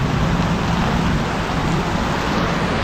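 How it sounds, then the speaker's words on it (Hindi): Heavy rain falling outside near a hotel in Omkareshwar, a loud, dense, continuous hiss close by with no voices. "बारिश बहुत तेज हो गई है"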